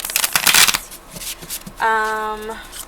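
A tarot card deck riffled quickly with a crisp fluttering rush, followed by a brief bridge-style cascade; a short musical tone sounds near the end.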